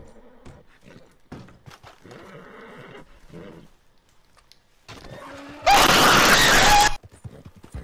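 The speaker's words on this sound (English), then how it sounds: "let's go ahead and take the horse." A horse in Red Dead Redemption 2 lets out a loud, harsh neigh lasting over a second, preceded by quieter shuffling and scattered game sounds.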